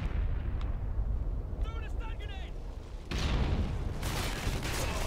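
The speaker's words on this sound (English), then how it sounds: "We're about to lay down that heavy fire." Heavy sustained light machine gun fire in a first-person shooter video game, a dense rattling barrage that swells louder midway and continues to the end, with brief electronic effects and a player talking over it.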